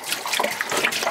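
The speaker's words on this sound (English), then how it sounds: "So we're going to go ahead and pour some right here in the sink" Antifreeze pours steadily into a kitchen sink drain in a Bambi Airstream 19CB travel trailer being winterized, a close, continuous gurgling and splashing liquid sound with no talk.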